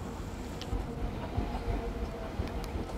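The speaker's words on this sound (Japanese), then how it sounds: "3番線に電車が参ります。" A Nagoya Municipal Subway Tsurumai Line N3000 series local train bound for Toyota-shi pulls into the platform at Iwakura Station with a low, steady rumble and faint clatter.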